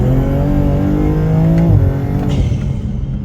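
A turbocharged BMW B58 engine revs hard in third gear and climbs in pitch as it accelerates, loud and close, then briefly eases before pulling again.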